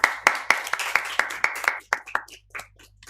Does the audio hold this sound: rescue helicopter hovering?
no